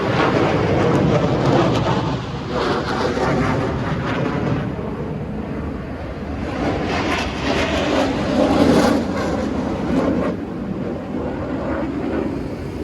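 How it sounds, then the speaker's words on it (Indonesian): An F-16 Fighting Falcon fighter jet roars through high-G manoeuvres at an air show, a loud sustained rumbling jet noise that swells and fades as it passes, heard from the ground with some wind buffeting the microphone. "Dari kanan podium, Combat One melaksanakan manuver High G-Barrel dengan High G-Turn dan berputar"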